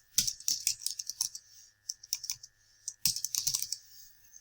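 Keys clatter on a computer keyboard in quick bursts of clicks, separated by short pauses and then a fresh flurry of typing, heard close and fairly quiet, with no speech.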